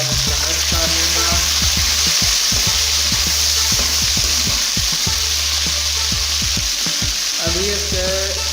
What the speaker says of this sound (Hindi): ये जो टमाटर मैंने काट कर रखे थे, ये ऐड कर दूँगा और इसको मिक्स कर लूँगा।